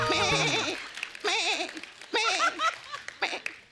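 On a comedy stage show, a voice imitates a goat bleating in three or four wavering, quivering bleats, loud and close, with brief gaps and a hint of laughter between them.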